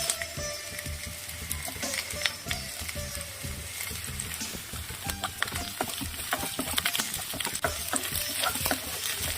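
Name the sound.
onions and green chillies sautéing on medium flame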